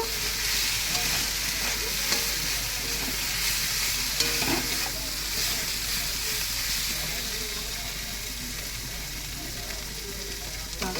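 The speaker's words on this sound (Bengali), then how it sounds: "এই যে এবারে আমি এটা দিয়ে দেবো, দিয়ে ভালো করে নেড়ে নেব।" Ingredients sizzle and crackle steadily in a hot pan while being stirred, a continuous close frying hiss with occasional scrapes throughout.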